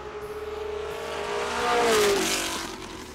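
Ford GT40 race car, the Ken Miles car, with its engine climbing in pitch as it accelerates and swelling louder toward the middle of a short pass before easing off, heard alone with no talk.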